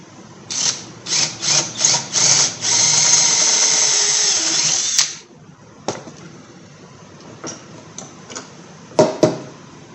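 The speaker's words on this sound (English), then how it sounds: "Before I drill that all the way out" A power drill whirs in short bursts, then runs steadily for a couple of seconds before stopping, followed by scattered clicks and knocks, while drilling out a part on a 2002 Chevy S-10 ZR2 differential.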